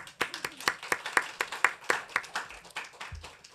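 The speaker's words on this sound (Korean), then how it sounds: "박수 한번 해주세요." A church congregation at a Sunday worship service in Incheon claps in a loose, fairly regular rhythm of distinct close claps, roughly three or four per second, with a brief low thump near the end.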